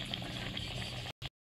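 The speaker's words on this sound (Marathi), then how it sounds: "आपल्या कालवणाला उकळी फुटले गरम पाणी केलेल्यामुळे" Vegetable curry with eggplant and added hot water boils in a pot on a wood-fired stove, giving a steady close bubbling hiss that stops abruptly with one short burst after it.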